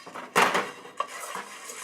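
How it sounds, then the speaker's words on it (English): Coffee beans are stirred in a pan during home roasting, giving a brief loud rattle and scrape of utensil against metal followed by lighter scraping and a single clink. "So we'll just keep stirring this a little bit."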